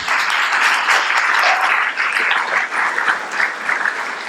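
A conference crowd at a Foro Monterrey panel event applauds, with dense, loud clapping that swells and then tapers slightly across the few seconds.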